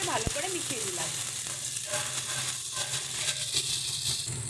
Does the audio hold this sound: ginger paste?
yes